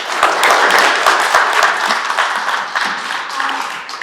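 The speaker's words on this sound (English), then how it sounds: "Give yourselves a round of applause" An audience at a conference session applauds steadily for about four seconds: dense, sustained clapping, loud and close, with no talking.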